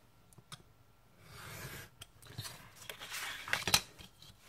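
Scissors snipping through paper for a mini album craft, a few quiet crisp cuts and rustles close by, the last snip sharpest, no talk heard.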